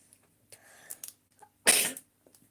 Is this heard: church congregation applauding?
no